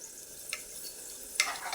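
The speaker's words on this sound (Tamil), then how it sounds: "கடுகு நல்லா வெடிக்கட்டும்." Mustard seeds sizzling in hot oil in a kadai for a beetroot kuzhambu tempering, a faint steady frying hiss broken by a few sharp pops.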